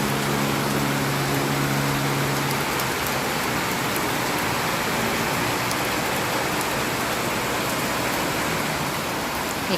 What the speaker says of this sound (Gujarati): દેખો બહાર કેટલો વરસાદ છે।